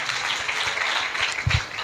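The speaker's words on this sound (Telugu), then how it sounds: "అందరము చప్పట్లు కూడా దేవుని స్తుతిద్దాం" Congregation at a Christmas church service clapping in praise, a dense wash of many hands filling the room with a few louder claps near the end.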